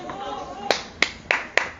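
A few separate sharp claps ring out close by, about four distinct hits spaced unevenly over a couple of seconds, following an instruction for the audience to applaud themselves.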